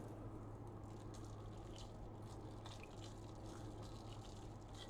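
A hand swishes blanched kale around in an ice water bath, producing faint, steady sloshing and small splashes over a low constant hum.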